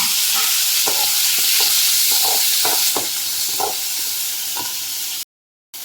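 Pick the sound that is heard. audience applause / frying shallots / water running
frying shallots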